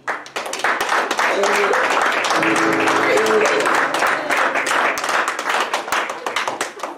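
An audience at a school concert claps for student performers, with a quick rise into dense, sustained clapping that thins toward the end and a voice briefly heard underneath.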